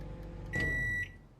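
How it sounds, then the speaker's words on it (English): A microwave oven, apparently inside a survival game, hums with a steady tone and a brief bright ringing pitch for about half a second, loud and close, with no talking over it. "Why are microwaves so loud?"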